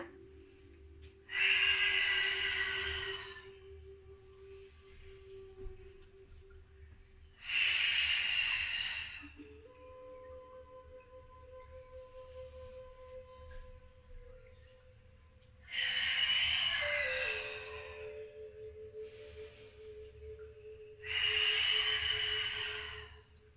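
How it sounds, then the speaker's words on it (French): Deliberately loud breathing during a pilates exercise: four forceful, hissing breaths spaced several seconds apart, close and prominent over a faint low hum. "je fais volontairement du bruit dans ma respiration pour que vous entendiez"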